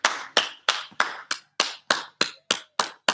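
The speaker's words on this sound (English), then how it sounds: "Round of applause." Children in a PE class give a round of applause, about a dozen evenly spaced claps, close and crisp, with no talking.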